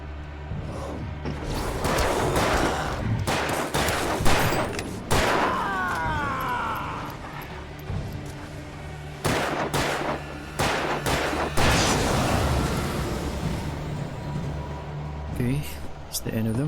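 Rapid gunfire from the video game Alan Wake Remastered, a series of sharp, loud shots in bursts under game music and talking voices.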